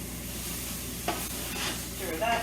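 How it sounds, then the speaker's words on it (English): Seasoning being stirred into butter chicken in a pan, a few spoon scrapes over a steady soft sizzle, close, with no talking. "Stir that in."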